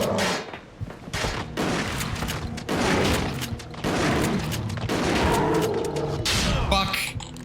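Repeated gunfire bursts and booms from Resident Evil: The Darkside Chronicles, loud and dense across the whole stretch, with a shotgun-style blast among the shots and a voice shouting over the action.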